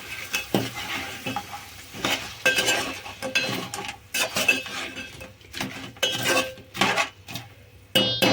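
A utensil scrapes and knocks against a cooking pot as crab legs are turned over in a crab tamarind curry, with irregular metallic clinks, scrapes and short pauses over a faint sizzle.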